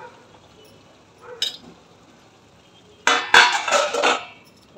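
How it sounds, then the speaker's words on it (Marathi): A metal lid set down on a pan of green peas steaming in a home kitchen: a brief clink, a pause, then a louder clattering scrape and rattle of metal on metal that fades out, close by, with no talk. "आता आपण झाकण ठेवून 10 मिनिटं वाफेवर शिजवून घेऊ"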